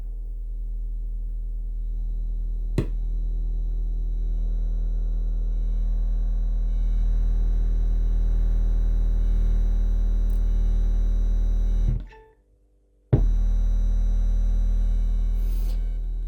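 A deep, steady 40 Hz test tone hums continuously from a Tronsmart Halo 300 speaker with two 8-inch woofers, cutting out briefly near the end before resuming at the same level.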